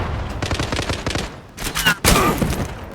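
Automatic gunfire from a weapon in the online shooter Zula, a rapid rattling burst of shots followed by a few louder, sharper blasts, close and loud.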